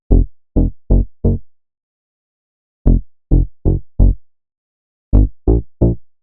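A hyperpop synth bass built in Vital plays short, punchy notes in groups of three and four separated by silences, each note gliding in pitch, with boosted low mids and the highs filtered away.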